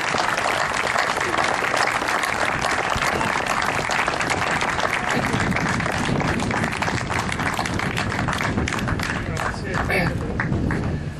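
Warm, loud applause of thanks from an audience at a community centre in Jesolo, sustained and dense for over ten seconds, with crowd voices mixed into the clapping.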